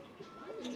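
A short, soft coo from a pigeon with feathered feet and a neck ring, a low throaty warble rising at the end, faint and close.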